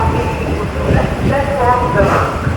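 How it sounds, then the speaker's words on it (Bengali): A passenger train rolls into Kharagpur railway station, its wheels rumbling and clattering steadily with metallic squeals over the rails, while voices talk nearby. "এগারোটা বেজে 42 মিনিট আমাদের ট্রেন খড়গপুর স্টেশনে ঢুকছে"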